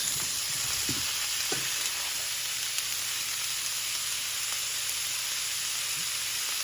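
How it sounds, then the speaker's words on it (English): Ham pieces and onions frying in a pan, giving a steady, close hiss of sizzling fat with a few brief stirring scrapes, no voices. "I'm going to add the ham to this pan."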